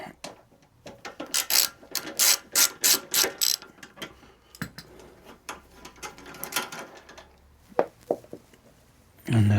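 Ratchet wrench clicking as it undoes a 10mm bolt on a Suzuki DL800 V-Strom motorcycle, bursts of rapid ratcheting in rhythmic strokes, then quieter fiddling and a few knocks near the end.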